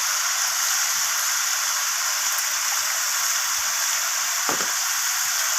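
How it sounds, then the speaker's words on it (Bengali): Spiced chicken gizzard and liver sizzling as they are sautéed in a pan, a steady bright hiss of frying that runs throughout, with a few faint stirring knocks and no talk. "তো সব কিছু মশলা দেওয়ার পর আমি এইভাবে কষিয়ে নেব"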